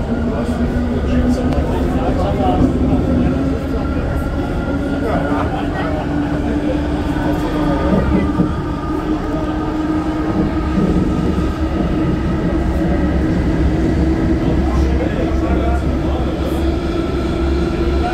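Historic Berlin S-Bahn Stadtbahner train running through a tunnel, a loud, continuous rumbling roar with a droning motor whine and rattling carriages, heard from inside the car for the whole stretch.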